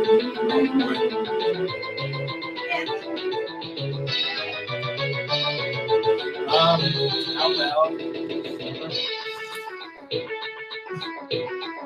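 Chiptune music and effects from Super Dodgeball Advance on the Game Boy Advance play steadily throughout, busy and bright, with voices talking over it at times.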